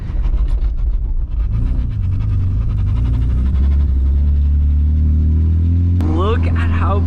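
BMW E46 car engine rumbling steadily, its pitch climbing as it revs during a drive, loud and close under speech, with a brief rising whoop near the end.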